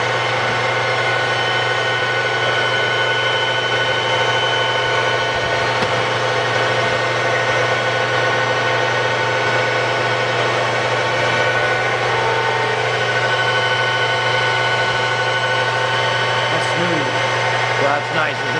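A Kearney & Trecker Model 205-SA horizontal milling machine, wired for 220 volts, runs at 1500 RPM with a No. 40 arbor, giving a steady, loud mechanical hum and whine that holds evenly throughout without pause.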